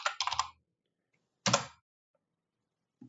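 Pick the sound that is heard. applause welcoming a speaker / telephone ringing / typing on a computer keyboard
typing on a computer keyboard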